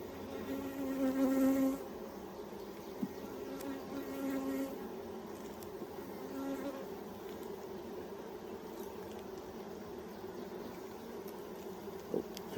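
Bees buzz steadily close by around an open, torn-apart hive, a dense droning hum with a few louder passes near the start.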